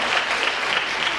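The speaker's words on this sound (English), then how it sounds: "give yourselves a round of applause" Steady, dense applause from a school audience of students, teachers and administrators, filling the short moment evenly at a fairly loud level without pauses or spoken voices.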